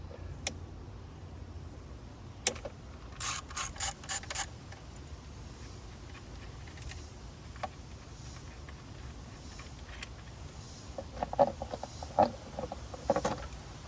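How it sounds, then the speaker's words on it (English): A ratchet works on the 10mm valve cover bolts of a 2004–2008 Acura TSX in a garage, making short bursts of quick metallic clicks over a low steady hum, close and fairly faint, with no speech. "I'm going to start with removing the valve cover. Two 10mm bolts."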